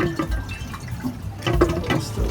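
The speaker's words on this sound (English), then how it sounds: "Still a lot of gurgling going on there. I think it's whatever was left inside the heater that's leaking out." Water gurgling and trickling as it drains from a pool heater after a pipe union is removed, an irregular close liquid burble with splashy bursts, no talk.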